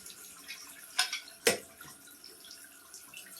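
Turtle aquarium filter media being rinsed under a running tap, a soft wash of water with two sharper splashing bursts close together, then quieter trickling, fairly faint with no voices.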